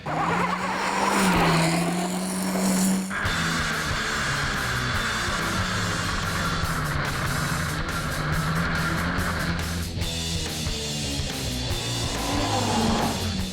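Rally car engine and tyres roar from inside the cabin, a steady loud drone with revving and tyre noise that shifts abruptly around three seconds and again near ten seconds.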